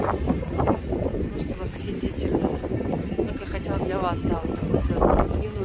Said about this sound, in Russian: тут ветер еще сильнее, чем в обычных местах